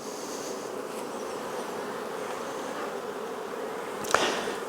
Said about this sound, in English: Look at that bee on my hand.